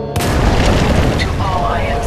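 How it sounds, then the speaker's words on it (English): Heavy detonations of explosive charges in Titanfall 2 roll on loudly, a dense continuous booming rumble with no clear break, some voices and game sounds mixed in. "Detonate charges 21 through 29."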